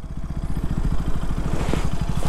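A KTM RC200 motorcycle accelerates, its single-cylinder engine putting out a rapid, throbbing pulse that grows slightly louder and rougher as revs climb, heard close by with no voices.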